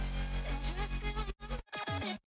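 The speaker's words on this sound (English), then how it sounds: "This is actually made using a pitch bend and also some auto pan." A future trap synth drop note bends up and down in pitch and pans side to side, dense and loud with abrupt cuts to silence.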